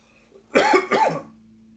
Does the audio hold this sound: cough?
yes